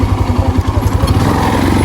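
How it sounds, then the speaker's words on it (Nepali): An Aroma Z200 motorcycle engine accelerates hard, heard loud and close as a rapid, pulsing exhaust throb that smooths into a sustained drone, with no talking. "सो गाइज यार यस्तो तान्छ यार यो बाइकले"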